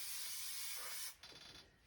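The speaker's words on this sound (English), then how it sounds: "So it won't be a minute while I just spray that." 3M spray adhesive (display mount) hisses from an aerosol can in a steady, close burst for about a second, followed by a few softer, broken spurts and faint handling noise.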